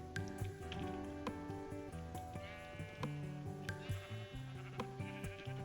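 Repeated bleating of sheep in the game Minecraft, on a farm with animal pens, sounds over continuous melodic game music, the short nasal calls coming at irregular intervals.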